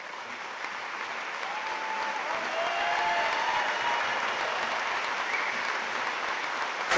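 A handball crowd gives a standing ovation after a world open men's final, with dense, sustained applause that swells slightly and holds steady, a few voices and whistles mixed in.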